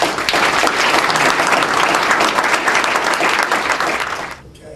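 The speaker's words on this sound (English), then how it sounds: "Do we have another round of applause?" Gala audience at the Windsor Shad Derby breaks into a full, steady round of close applause that fades out in the final moments.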